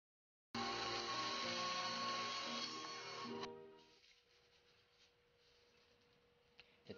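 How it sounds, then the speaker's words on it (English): A bandsaw cuts wood for an angel tree topper, a loud steady whining cut lasting about three seconds that then winds down to a faint hum, with a small knock near the end. "now I can finish up the bandsaw work"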